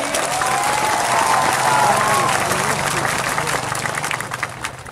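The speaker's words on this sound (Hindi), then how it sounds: "उसको भी ताली मिलना चाहिए" Sustained audience applause at a Kokborok-language public gathering, a dense continuous wash of many hands clapping that holds steady for several seconds before easing slightly at the end.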